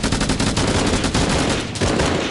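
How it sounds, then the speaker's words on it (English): Sniper and rapid gunfire in the Arma Reforger video game with a Halo mod, loud dense bursts of shots crackling almost without pause over a few seconds. "those innies with snipers are lethal."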